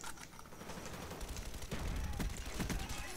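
Rapid gunfire bursts in the video game Call of Duty: Black Ops 1, dense overlapping shots in a sustained, fairly loud volley across the whole stretch.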